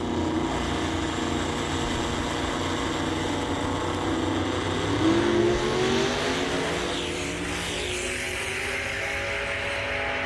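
Street drag racing cars roar at a Carolinas event, a loud sustained engine drone with rising revs midway as the cars pull away, heard from trackside with no talk.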